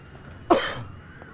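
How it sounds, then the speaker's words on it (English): One short, sharp human cough, close and fairly loud, standing alone against quiet background game ambience. "don't worry about my cough"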